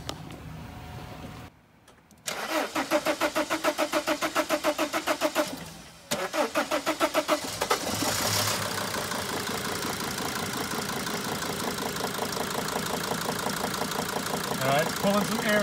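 A 2002-2003 Sprinter T1N diesel engine cranks in rhythmic bursts, pauses, cranks again, then catches and settles into a steady clattering idle, close and moderately loud.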